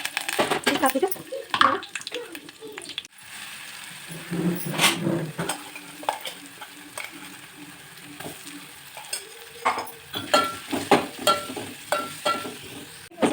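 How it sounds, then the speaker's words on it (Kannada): Chana dal, urad dal and fenugreek seeds sizzle and crackle in hot ghee while a spoon stirs and scrapes the pan, with scattered clinks and a voice talking over it. "ಸ್ವಲ್ಪ ತುಪ್ಪ ಹಾಕಿದ್ದೀನಿ ಒಂದು ಪಾತ್ರೆಗೆ ಈಗ ಕಡಲೆಬೇಳೆ ಉದ್ದಿನಬೇಳೆ ಮತ್ತು ಮೆಂತ್ಯನ ಹಾಕಿ"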